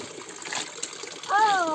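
Water pours steadily from an old village fountain, a close, continuous gush under people chatting, with a voice rising over it near the end.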